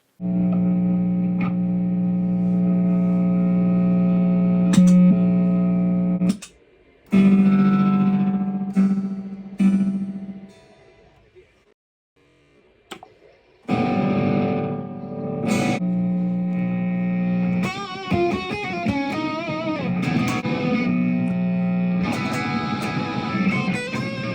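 Distorted electric guitar with shrill pickups through heavy effects, sustained bright, harsh notes with echoey swells, a brief drop to near silence midway, then more ringing notes.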